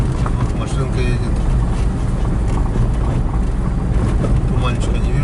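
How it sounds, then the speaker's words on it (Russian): A car drives along a forest road, its steady engine and tyre rumble close and continuous throughout, with heavy low-end wind buffeting. "Вот машинка едет."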